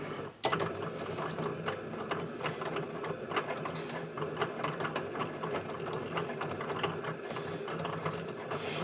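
Cricut cutting machine cutting vinyl for a winter wreath sign, a steady close mechanical whir with quick repeated ticks and taps running throughout after a soft thump at the start.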